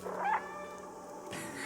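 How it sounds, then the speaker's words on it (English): A cat meows in the video game Stray, one short close call with a rising tone over a soft ambient background, followed by a brief rustle. "Press B to meow."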